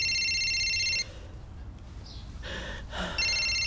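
A telephone rings indoors with a repeated electronic warble, two bursts separated by a quiet gap with faint breathing, clear and close.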